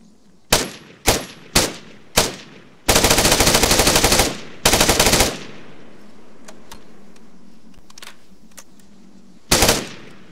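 Video game gunfire from an IDF mod weapon firing at 857 rounds per minute: three single shots, then two sustained automatic bursts, faint scattered clicks, and a final loud shot, all close and loud.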